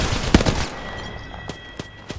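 Devotion energy gun in Apex Legends fires a rapid loud burst at close range, then a few more isolated sharp shots follow after a short pause.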